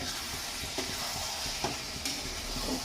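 A mango dish cooking in a pan, steady low sizzling with occasional scraping knocks as a spoon stirs it, close and fairly quiet, with no voices.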